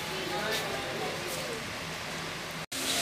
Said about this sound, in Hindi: और बाहर भी बारिश हो रही है।